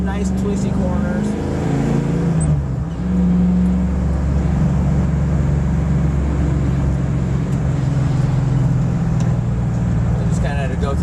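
A 1969 Camaro is driven on twisty roads and heard from inside the cabin, its engine a steady low drone that swells under throttle, with a person talking over it throughout.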